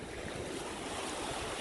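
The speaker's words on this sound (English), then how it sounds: "Waves are so strong, they're washing the sand right out from underneath my feet." Rough Michigan lakeshore surf near the Singing Bridge, strong waves washing over sand with constant roaring wash and wind buffeting the microphone, no talk.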